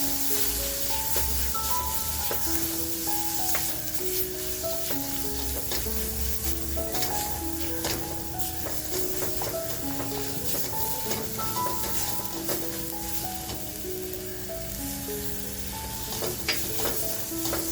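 Tomato frying in spiced masala in a pan, a continuous soft sizzle with occasional scraping and stirring clinks, close and moderately quiet, no talking.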